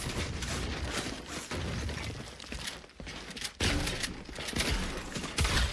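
Gunfire in the Fortnite video game: continuous rapid bursts of shots and crackling impacts over a busy game soundscape, loud and dense, with a few sharper cracks near the end.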